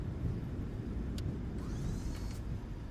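Boeing 737 braking on the runway after a hard touchdown in MSFS 2024, a steady broadband roar of engines and wheels on the ground with a brief whine near the end.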